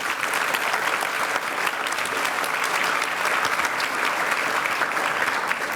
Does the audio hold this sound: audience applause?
yes